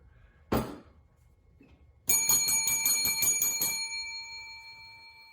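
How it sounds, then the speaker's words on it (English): A service bell sounds, first a single dull knock, then a bright ringing strike that rings out and slowly fades, close and alone with no talking. "This is a service bell, and I need some more water."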